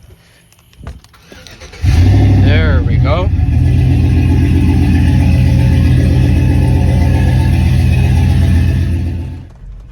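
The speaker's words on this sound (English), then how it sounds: "About to turn on the '08 Silverado though." A lowered 2008 Chevrolet Silverado truck with stock exhaust cranks and fires up about two seconds in, then runs and revs loudly and close before cutting out near the end; someone speaks briefly over it.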